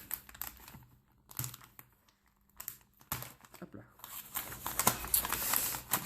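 Crinkling and ripping of tape and packaging on a parcel holding a blister-packed Pokémon card booster, in short bursts, close by, with pauses between tugs and a voice talking in between.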